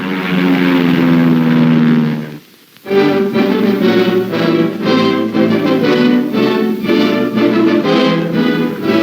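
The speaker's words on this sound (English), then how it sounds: "Meanwhile, overhead, Air Force and Marine Corps planes support the ground troops." Air Force and Marine Corps propeller planes flying overhead in Korean War combat footage: a loud, steady, throbbing engine drone that breaks off briefly and then returns, continuing strongly without speech.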